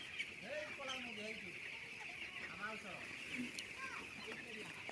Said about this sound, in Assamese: এয়া মুৰ্গী আকৌ খেদিব ল'লে।